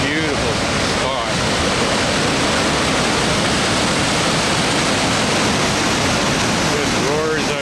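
Anyox Creek roaring out of the mountains beneath a bridge near an old mine, a loud, dense, continuous rush of whitewater filling the whole stretch, with brief bits of a voice over it.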